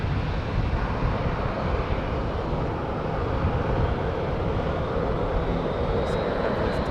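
A Boeing 737 on the move at Raleigh-Durham International Airport gives a steady, broad jet engine roar, moderately distant and continuous without pause.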